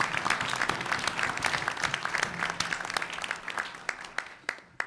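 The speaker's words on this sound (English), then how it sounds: "All those in favor, please applaud." A meeting audience applauds after a board motion, with dense steady clapping filling the room for the full span and a few sharper individual claps standing out near the end.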